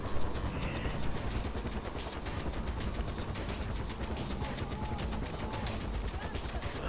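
Helicopter in the video game Far Cry 4, a steady, dense rotor chop that fills the whole stretch at moderate, even loudness, mixed with rapid bursts of gunfire.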